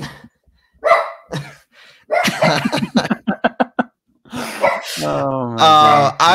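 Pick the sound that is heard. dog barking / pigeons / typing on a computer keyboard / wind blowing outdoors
dog barking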